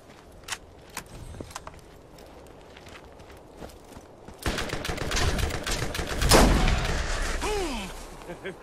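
Gunfire in Borderlands, a few scattered sharp shots followed by a louder dense burst of firing with whizzing effects, close and punchy.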